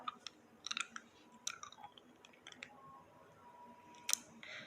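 Chewy Malaysian Mentos candy being chewed close to the mic, soft wet squishing bites with a few sharper clicks, quiet and intermittent with no talking.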